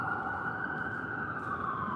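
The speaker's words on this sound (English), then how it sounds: "A fire truck. I see a fire truck behind." A fire truck's wailing siren holds steady and loud throughout, its pitch sliding slightly as the truck passes close by amid traffic rumble.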